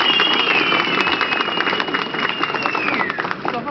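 Steady crowd applause fills a political gathering in Çermik, Diyarbakır, as the governor is welcomed to the podium: a dense, even wash of clapping with crowd noise and a faint whistle-like tone, holding at constant loudness throughout.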